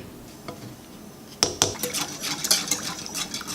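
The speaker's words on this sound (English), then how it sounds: "I'm just gonna whisk it in really good" A whisk beats yogurt starter into warmed milk, rapid metallic clinks and scrapes against the pot that begin after a quiet stretch and continue busily to the end.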